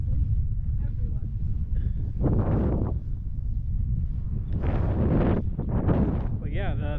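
Strong wind blows sand across the tall dunes, producing a heavy, continuous rumbling roar that buffets the microphone up close, with brief indistinct voices rising over it now and then.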